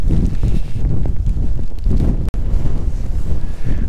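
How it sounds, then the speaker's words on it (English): Strong breeze buffets the microphone on a countryside walk across open fields near Lower Angerton, Northumberland, a steady loud low rumble of wind gusts with a brief dropout partway through. "A bit breezy today"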